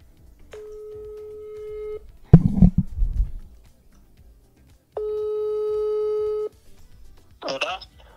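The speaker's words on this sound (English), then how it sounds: "I'll call Carlos. One sec. I'm calling Carlos" A phone call rings out through a handset in two long, steady tone bursts separated by a pause, with a person talking briefly in between.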